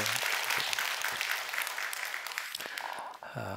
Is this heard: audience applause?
yes